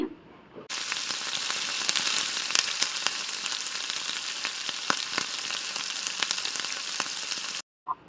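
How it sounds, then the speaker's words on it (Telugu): Chopped onion, cumin and green chillies fry in oil in a pan with a steady, close, hissing sizzle and scattered crackles lasting several seconds before stopping abruptly. "అందులో జీలకర్ర, పచ్చిమిర్చి, కట్ చేసి పెట్టుకున్న ఆనియన్ వేసి ఫ్రై చేయాలండి"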